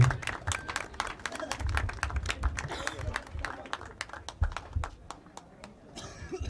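An audience applauds a marathon winner at a prize ceremony, with scattered, uneven hand claps from a modest crowd rising and falling for several seconds before thinning out at the end.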